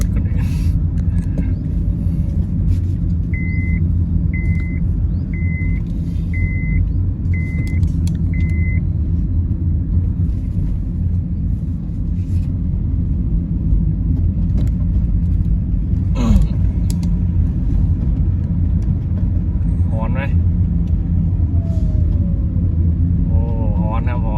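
A car drives along a road with a continuous low rumble of engine and tyres, a short series of electronic beeps early on, and someone talking over the noise.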